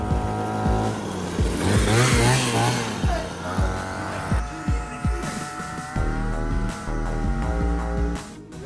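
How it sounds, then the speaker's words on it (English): A homemade motor scooter built from two Razor scooters, with a 26cc trimmer engine, twist throttle and stock Razor wheels, buzzes close by. Its engine revs rise and fall with a few clunks and bumps. "It's equipped with a 26cc trimmer engine. This is 2 Razor scooters."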